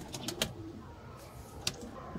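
Rampuri pigeons coo softly at a pigeon sale, with a few faint, short calls against a quiet background.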